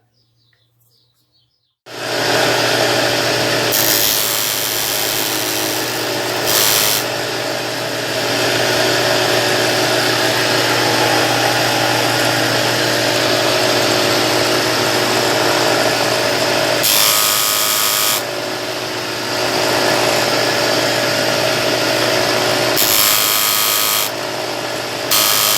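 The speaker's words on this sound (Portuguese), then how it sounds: "Para a gente lixar o cano e ele ficar no esquadro as duas partes, as duas pontas" A power sander grinds continuously on a 20 mm PVC pipe, a loud, steady abrasive whir that starts abruptly and runs for the whole stretch with a few brief changes in pressure.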